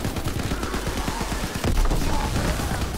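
Dense gunfire in the WW2 Zombies game The Final Reich, with rapid overlapping shots and bursts rolling on continuously, loud and close, swelling heavier partway through.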